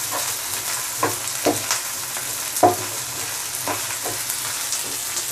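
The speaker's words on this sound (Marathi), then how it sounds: "आलं लसूण आणि मिरचीसुद्धा कांद्यासोबत परतून घेऊया." Onion, ginger, garlic and green chili sauté in a pan for matar paneer, a continuous close frying sizzle broken by several scraping stirs of a spoon across the pan.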